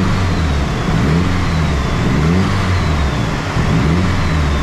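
A Nissan SR20DET engine fitted in a Ford Anglia runs steadily on a rolling road, a loud, continuous mid-pitched drone with slight rises and falls in revs and no voices.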